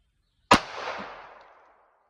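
A single close, sharp pistol shot firing a Hornady XTP 124 grain +P round at about ten feet into a hard bone target, its crack followed by a short fading echo.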